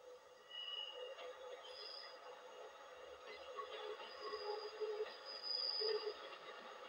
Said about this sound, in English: An Aberdeen-bound train leaves the station